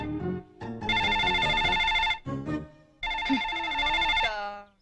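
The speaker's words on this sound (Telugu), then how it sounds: "చెరీ నీకే ఫోన్." A phone's ringtone plays a Hindi song as a loud melodic tune in several bursts with short breaks, close by, then fades out.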